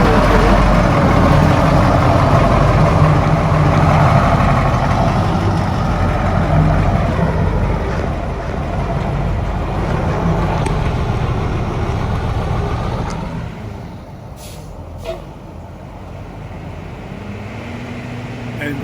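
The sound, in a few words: 1974 Gillig bus with 3208 engine idling, air brakes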